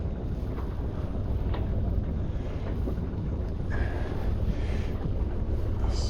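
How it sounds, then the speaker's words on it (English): Steady wind rushes and buffets the microphone aboard a sailboat on a sunny November day, wind off the port beam, with water noise underneath throughout. "So the wind is pretty much from the port beam still."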